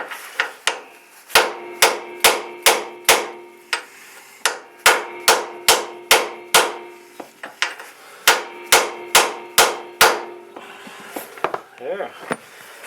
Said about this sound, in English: I'll go ahead and just hammer it in there, and you can watch.